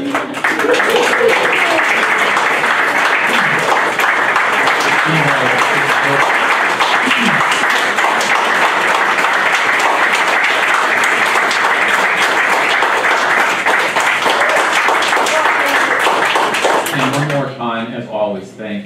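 Sustained, dense audience applause fills a community center hall for about seventeen seconds, loud and steady, then tapers off as a speaker's voice takes over.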